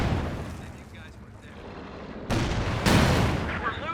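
Tank cannon shots in Company of Heroes 2 during a 1v1 match, with a Jackson tank destroyer trading fire against a Command Panther: two sharp booming reports land about half a second apart, over a bed of continuous battle noise.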